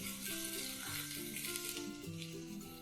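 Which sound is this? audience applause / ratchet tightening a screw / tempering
tempering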